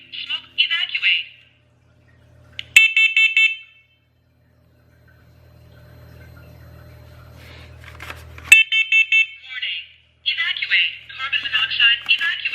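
A First Alert 10-Year Life smoke and carbon monoxide alarm runs its test, giving loud, piercing beep bursts that alternate with a recorded voice announcing warnings, and a quiet pause falls in the middle.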